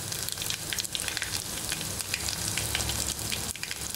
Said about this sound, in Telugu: అవి కాస్త చిటపటలాడుతున్నప్పుడు వెల్లుల్లిపాయ వేసుకోవాలి.